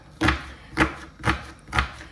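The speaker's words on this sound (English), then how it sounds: "While the cabbage is boiling, I cut into small pieces this onion" Knife chopping an onion into small pieces on a board in a home kitchen, four evenly spaced, close, firm chops about half a second apart with no talking.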